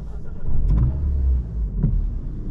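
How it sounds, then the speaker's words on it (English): A car engine starting: a short electric whirr and low rumbling crank, then the engine catching into a steady idle hum heard from inside the vehicle. "So we're gonna start the engine."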